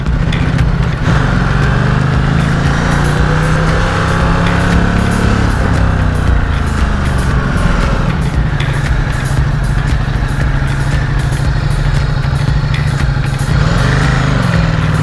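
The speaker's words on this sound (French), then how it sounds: "C'est de venir faire des tours en moto." A motorcycle being ridden gives a loud, continuous engine drone with a steady low hum and buzzing harmonics, rising and easing slightly as it goes, with wind noise throughout and no talk.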